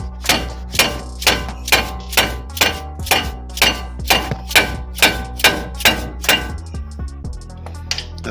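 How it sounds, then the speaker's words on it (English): A four-pound rubber hammer strikes a Ford Fiesta front hub about a dozen times in an even, steady rhythm, each blow a loud ringing metallic clang up close, with a low hum underneath. "rubber hammer."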